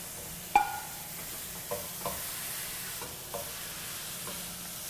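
Hamburger and sausage, a pound of each, frying in a pan, a low steady sizzle with a few sharp scraping clicks from stirring, close and without talk.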